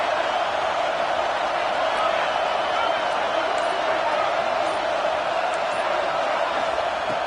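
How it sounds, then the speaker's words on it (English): Stadium crowd roar in a college football game, a dense, steady wall of noise holding at the same level throughout with no breaks. "And here comes the noise. This crowd is trying to inspire this defense to make a big red zone stop."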